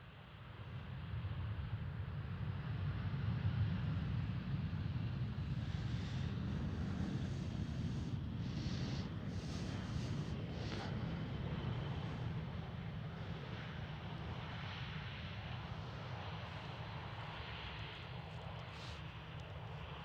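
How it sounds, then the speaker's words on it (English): An EasyJet Airbus jet at Schiphol Amsterdam produces a faint, sustained low roar with a deep rumble that fades gently over the span, alone without talk. "That's EasyJet A320."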